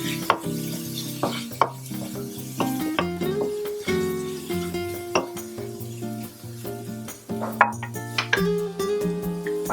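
Shrimp heads and squid fry in a pan for seafood spaghetti, a steady sizzle broken by utensil clinks and scrapes against the pan, with soft tonal background music underneath.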